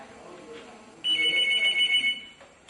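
A telephone rings in one sustained electronic trill burst lasting about a second, loud and close, after a faint stretch with a little background voice.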